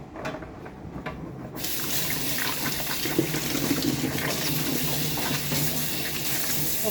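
Vegetables are washed under a running tap: a steady, close stream of water hisses continuously into a basin, picking up after a quieter start, with no talking.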